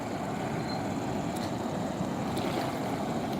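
Continuous loud rush of the flooding Chandani River, a dense unbroken roar filling the whole stretch with no voices.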